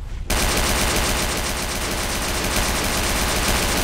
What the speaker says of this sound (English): I like how we both started shooting that.